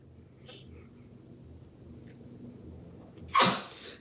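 A pet named Twinkie lets out a single sudden sneeze, short and fairly loud against a quiet, low background murmur.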